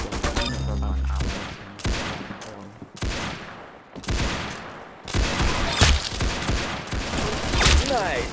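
Rapid bursts of gunfire from the Roblox shooter Arsenal fill the scene, loud and dense with repeated shots and volleys, layered over game music and effects with some talk in the background.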